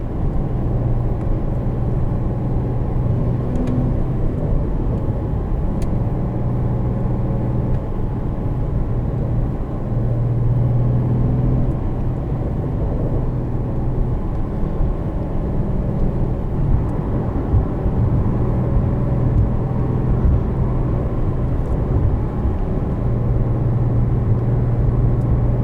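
Interior drone of a 2020 Porsche 911 (992) Carrera 4S with manual gearbox on the move, a steady low engine and road rumble whose pitch rises and falls with gear changes, no talk.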